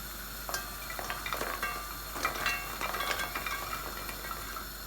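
Small nugdi sweets are tipped into hot sugar syrup and stirred, making a close, busy bubbling and a light sizzle broken by scattered scrapes and clinks of a spoon against the pan, with no one speaking.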